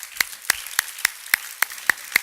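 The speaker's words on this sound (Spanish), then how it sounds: "Un aplauso para el Señor." Rhythmic clapping in a church congregation, eight sharp evenly spaced claps at a steady beat, fairly close and clear with no talk over them.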